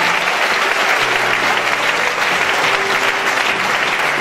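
Congregation at a French-language church service applauding the Lord, steady dense clapping sustained throughout, loud and close with a faint murmur of voices underneath.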